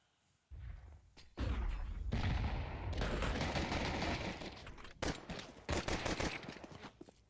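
Dual Beretta pistols fired in Counter-Strike: a sharp opening shot, then dense overlapping volleys of rapid pistol fire and several crisp separate shots later, loud and close with no voices.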